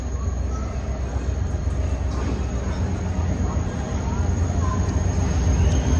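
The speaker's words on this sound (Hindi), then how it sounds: "ट्रेन भी आ रही है।" A train arriving at a station, with a constant loud rumble and rolling noise close by, steady throughout with no clear breaks.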